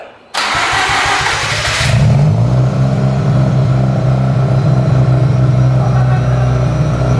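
A BMW E30 TC Baur Cabriolet engine cranks briefly with a starter whir, then catches and settles into a steady, close, loud idle.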